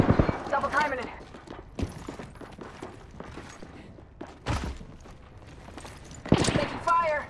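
Gunfire in the video game Apex Legends: loud bursts of rapid shots come in several separate volleys, with quieter in-game action between them.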